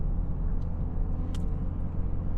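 Low, steady cabin drone of a 2018 BMW 328d xDrive wagon's modern diesel engine cruising in third gear, quiet and even, with road rumble and no talk.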